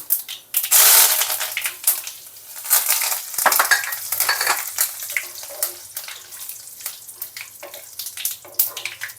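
Black mustard seeds and curry leaves crackle and spit in hot oil, a dense, steady sizzle with sharp pops and stirring scrapes throughout.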